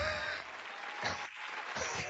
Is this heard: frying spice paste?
no